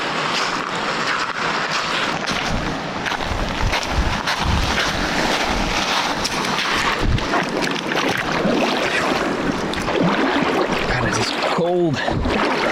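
A hiker wades across Hurricane Creek on the Ozark Highlands Trail in December, with rushing water and splashing steps up close, wind buffeting the microphone throughout.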